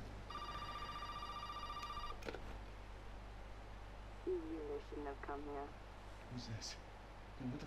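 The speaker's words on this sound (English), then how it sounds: "Would you kindly answer the phone?" A telephone rings in the survival horror game Resident Evil 7. It gives one steady, bright electronic ring lasting about two seconds, and a voice then talks quietly under a low background hum.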